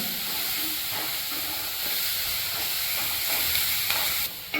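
Onions frying in a pan until light brown, a steady hissing sizzle running throughout, with faint stirring scrapes now and then and a brief clatter at the end.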